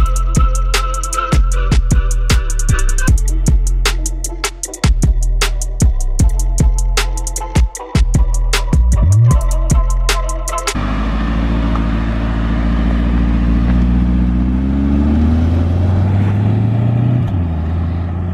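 A 2020 C8 Corvette engine with catalytic converters deleted and a tune revs hard in sharp, repeated bursts with crackling exhaust pops, then settles into a loud, rumbling idle.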